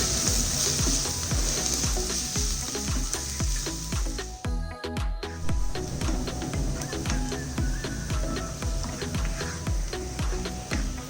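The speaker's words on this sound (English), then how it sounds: "saute it nicely until it becomes very soft" Onions sauté in a pan for Mumbai pav bhaji, giving a continuous close sizzle with rhythmic clicks of a spoon stirring against the pan and a brief pause midway.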